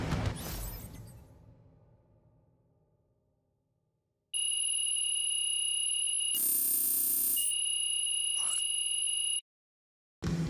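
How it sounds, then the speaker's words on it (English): A final buzzer ends an NBA 2K26 basketball game, sounding as a loud, steady electronic tone for about five seconds after crowd noise has faded, with a brief burst of noise partway through. "as the final buzzer sounds, it's going to be Nanterre Elite walking out of here with a nice road win"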